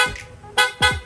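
A Piaa dual horn fitted to a Yamaha Sniper 155 motorcycle honks loud and close in three short toots, each a bright, harmonic-rich blast with a quick falloff.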